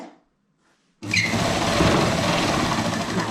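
An electric sewing machine stitching a fall onto a saree: after a second of near silence, the motor starts abruptly and runs in a loud, steady, close whir until the end, with no voices.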